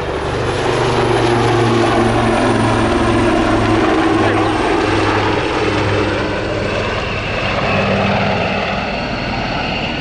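A Wildcat military helicopter with a side-mounted half-calibre machine gun hovers at about 300 feet and turns during an air show display at Yeovilton, its rotors and engine giving a loud, steady, close roar throughout.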